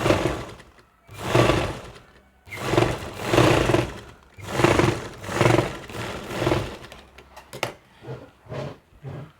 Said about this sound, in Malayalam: ഒന്നും കൂടെ തയ്ച്ച് വിട്ടു കൊടുക്കാം ഒരു പ്രഷർ ഫുഡിൻ്റെ വീതിയിൽ നമ്മൾ ഇത് സ്റ്റിച്ച് ചെയ്ത് വിടുക